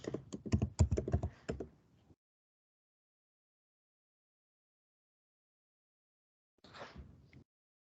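Rapid keystrokes on a computer keyboard as a command is entered at a terminal, a dense burst of clicks for about two seconds, then silence, then a shorter soft flurry of taps near the end.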